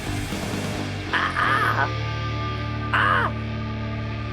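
A human voice mimics a crow's cawing in two short, harsh, rasping bursts separated by a pause, over a steady low hum.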